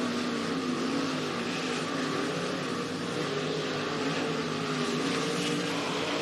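RaceSaver sprint cars roar around Eagle Raceway in a heat race, a continuous dense engine drone at steady loudness with a faint crowd wash underneath and no clear talk.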